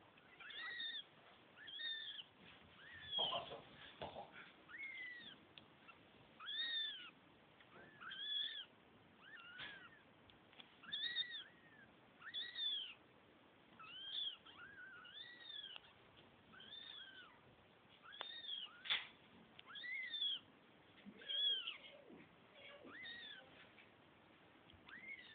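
Seventeen-day-old kittens meow repeatedly in thin, high, rising cries, many overlapping in a steady stream over a quiet indoor background.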